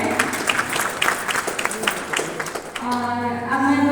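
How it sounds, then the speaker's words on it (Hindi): Audience at a poetry recital for teachers breaks into applause, brisk clapping that swells over a few seconds, with a voice speaking over it near the end. "तो कृपया अपने लिए पहले जोरदार ताली आप लोग दे दीजिए।"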